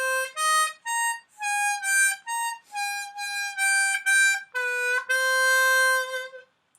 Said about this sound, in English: So the second way we could play line D is further up the harmonica in the next octave up